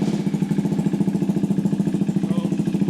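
A 2025 KTM 390 Adventure R motorcycle engine idles steadily up close, a low rhythmic chugging pulse that stays even throughout.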